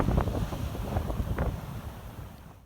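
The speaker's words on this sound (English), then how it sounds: "There was a pretty strong headwind on my way up to Chroma, which I tried to capture in this video." Strong headwind buffets the microphone on a coastal walk, a rough low roar with gusty surges that eases toward the end.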